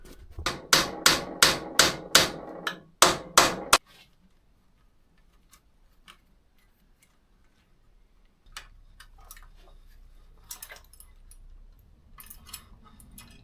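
A hammer strikes a part on a Honda C90 motorcycle with about eight sharp, ringing metallic blows in a quick rhythm, then quiet with faint clicks and handling noises.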